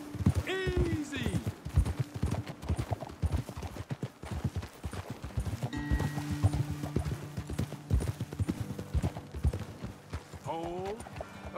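Horses' hooves clip-clop steadily in Red Dead Redemption 2, a rhythmic string of close hoofbeats running through most of the stretch, with speech and occasional whinny-like tones over them.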